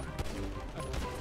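Rapid gunfire crackles in GTA V, a dense burst of overlapping shots filling the whole moment, loud and continuous with no pauses.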